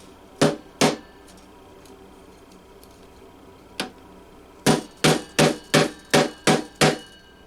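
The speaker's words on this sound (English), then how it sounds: "Just hammer them in dry." Close, sharp hammer taps drive frets dry into the cleaned fret slots of a Teisco EP-11T guitar neck: two strikes, a pause, a single blow, then a steady run of seven quick even taps.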